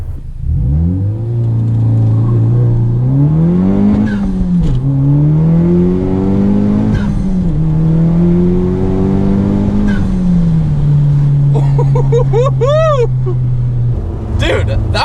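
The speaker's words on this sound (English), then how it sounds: "Okay, gonna do a 0 to 60 here." A Honda Civic Type R with rolling anti-lag launches from 0 to 60, the engine droning loudly and rising through several gear changes from inside the cabin, with a voice speaking briefly near the end.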